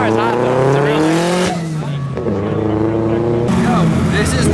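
A rear-wheel-drive Honda Civic drifts at a race track with a loud, continuous engine roar that rises and falls in pitch, mixed with tire squeal and skidding.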